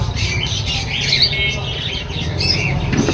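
Cockatiels in a cage squawk and chirp continuously, harsh and bright, over a dense, noisy background of many birds, with no talking.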